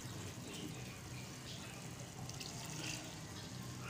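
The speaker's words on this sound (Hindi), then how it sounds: "मैं इसमें ऐड करूंगी दूध, 1/2 कप जितना इसमें दूध यूज़ करूंगी।" Half a cup of milk poured into a pan of white chicken korma, heard as a faint, steady liquid wash with no talking.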